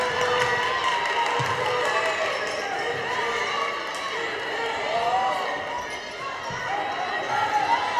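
At a girls' high school basketball game between Fossil Ridge and Highlands Ranch, the gym crowd keeps up a steady roar of cheering throughout. Sneakers squeak on the court and commentators talk over the noise.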